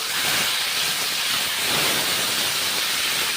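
Boiled papaya frying in a pan with green chillies, a loud dense steady hiss of sizzling oil and steam filling the whole stretch, close and without talk.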